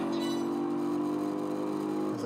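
A Toyota Supra with its 2JZ engine races in Project Gotham Racing 4, a steady droning engine note held at high revs, fairly quiet, with a quick shift in pitch right at the end.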